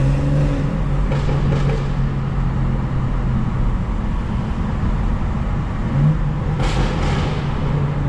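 A stage 2 tuned BMW 440i drives through New York City, its engine and exhaust a steady, loud rumble and drone with a low hum throughout, close and continuous, without talk.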